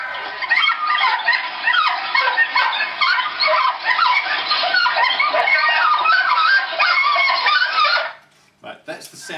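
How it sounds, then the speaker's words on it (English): A pack of foxhounds in full cry, played back from a small device, gives a dense, continuous chorus of baying and yelping for about eight seconds before cutting off, followed by brief handling noises. "That's the sound of a pack of hounds in cry."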